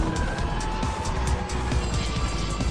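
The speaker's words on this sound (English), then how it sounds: "Applying the power as we go round, skidding out, almost stopping as we turn into the wind." A Porsche 911 GT3 cornering hard on a race track, tyres skidding as power goes down. A loud, steady roar of engine and tyre noise runs throughout with no talking.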